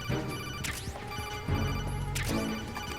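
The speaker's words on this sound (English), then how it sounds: "someone wants you on the phone. Answer the phone." A telephone rings inside the Metal Gear Solid game, bright repeating tones cutting through busy game sound with a couple of sharp crashing hits.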